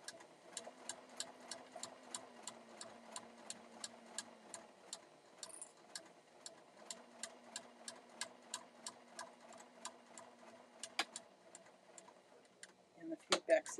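A sewing machine stitching a fabric scrunchie: a steady, quick run of ticking needle strokes with a faint motor hum underneath, quiet and close, pausing briefly partway and ending with a few handling clicks.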